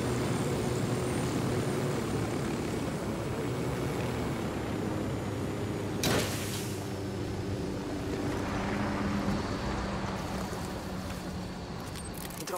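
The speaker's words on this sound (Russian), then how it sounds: "Дрон в воздухе." In the video game Ghost Recon Wildlands, a drone holds a steady, droning propeller hum throughout, loud and continuous, with a brief sharp click partway through and no voices.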